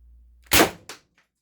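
An Umarex HDR 68 air pistol fitted with an oversized power plenum fires two sharp close shots in quick succession, a loud crack followed by a softer second pop, then silence.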